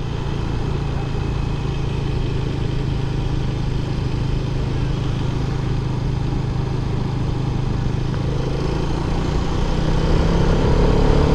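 A Hero Karizma XMR 210 motorcycle cruises in fourth gear on the road, producing a loud, steady engine drone mixed with constant wind rush that holds even with no clear revving changes.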